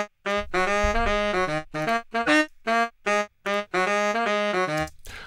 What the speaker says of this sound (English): So, this is the baritone saxophone from Contact.